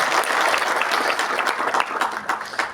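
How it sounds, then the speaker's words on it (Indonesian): Church congregation applauding during a sermon in a mall venue in Bandung, a steady, fairly loud wash of many hands clapping with individual claps popping out, easing slightly toward the end. "Berikan tepuk tangan bagi Dia."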